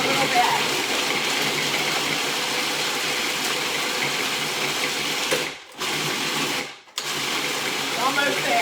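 A food processor whirs loudly and continuously, blitzing chickpeas with peanut butter and chocolate, cutting out briefly twice before starting up again.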